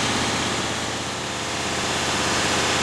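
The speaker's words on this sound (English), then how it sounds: "Sorry about the noise in the background. Laundry is being done." A laundry machine running, a steady loud mechanical hum and rumble that stays constant throughout with no breaks and no voices.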